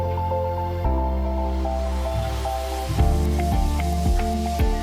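Minced meat (keema), about 775 grams, fries with onions in a pan, giving a steady close sizzle with faint scraping and stirring. An ongoing tonal hum sits underneath, and a few sharper clicks come toward the end.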